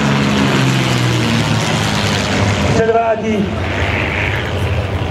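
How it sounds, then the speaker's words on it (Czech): A Zlín 526 propeller aircraft flying a display at an air show in Rokycany, a steady loud engine drone throughout, with an announcer speaking over it partway through. "letoun Zlín 526"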